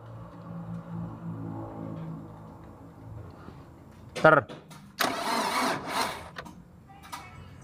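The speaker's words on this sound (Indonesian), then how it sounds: "Ini agak lama untuk proses starternya, soalnya solar di ledengnya masih kosong semua" A diesel engine with empty fuel lines cranks with a starter, a brief harsh burst followed by a longer labored cranking run, close by, with someone talking beforehand.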